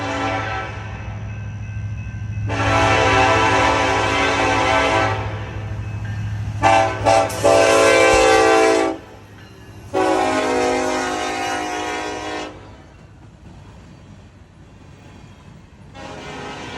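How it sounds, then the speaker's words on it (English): A BNSF coal train rolls past nearby, its horn sounding in several long, loud blasts separated by short gaps, with the steady rumble of railcars continuing underneath and between them. "That's a coal train."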